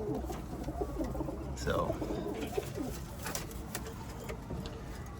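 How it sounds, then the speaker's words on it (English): Cumulet pigeons in their coop give soft, repeated throaty coos close by among fluttering and shuffling, while someone speaks briefly. "this is here the cumulet coop, man."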